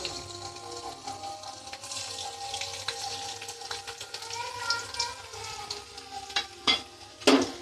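Chopped garlic goes into hot oil in a wok, giving a low crackling sizzle with occasional stirring clinks that grow sharper and louder toward the end.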